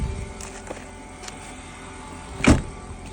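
A car idles steadily after a cold start at minus two degrees, an engine said to run poorly when cold, with a sharp latch clunk as the hood is opened near the end.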